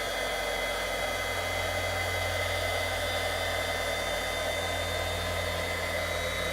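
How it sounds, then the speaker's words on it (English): A heat tool blows a constant loud whooshing roar with a low hum, close up and unbroken, while embossing powder is melted on a card. "I'm just going to heat emboss this."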